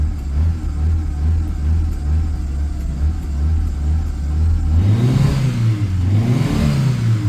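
A Honda CB200 motorcycle engine with a carburettor rebuild and a suspected choke issue idles with a steady low rumble, then revs up in two rising and falling swells near the end, close and loud.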